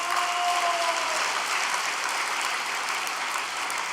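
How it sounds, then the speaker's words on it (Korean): An audience at a filial piety culture festival in Gapyeong claps together in sustained, even applause that holds steady for the whole stretch, fairly distant with no voices standing out. "우리 모두 가평 효종문화축제를 위해서 여러분의 격려와 사랑의 박수를 한번 올려주시기 바랍니다."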